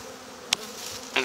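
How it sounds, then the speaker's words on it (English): Steady honey bee buzzing hums throughout at close range at a hive, with a couple of brief louder passes from individual bees flying near. "So yeah, these are some Mary Ellen bees"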